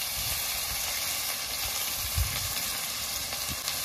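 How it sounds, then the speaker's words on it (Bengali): A ground paste of ginger, garlic, onion, dried red chilli and cumin hits hot oil in a pan for a rohu fish and poppy seed curry, making a continuous loud hiss and sizzle with a few soft knocks, no voices. "এবার বেটে রাখা মশলাগুলো দিয়ে দেবো"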